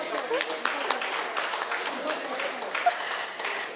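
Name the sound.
audience applause for Venkat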